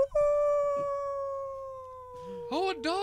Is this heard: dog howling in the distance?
yes